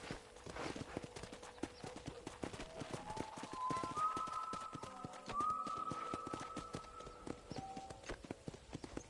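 Steady hoof clip-clop of a horse at a walk in Red Dead Redemption, with a sustained musical tone and light ambience underneath, no talking.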